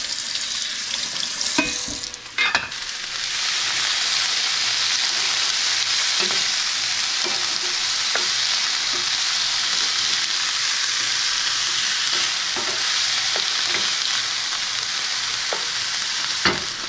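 Tropea onions and peppers frying in a pan for shakshuka, a steady close sizzle with occasional stirring scrapes and a couple of utensil knocks near the start, no talking.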